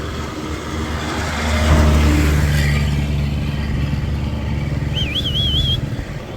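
A motorcycle engine runs steadily at close range in a village setting, a low rumbling drone that swells slightly around the middle, with a brief high whistle-like tone near the end.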